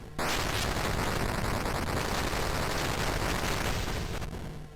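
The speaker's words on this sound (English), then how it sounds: "So it's one of those classic pokey sound effects" Atari 8-bit POKEY sound effect from the game Shadow World, a loud, dense burst of harsh static-like noise held steady for several seconds with no talking.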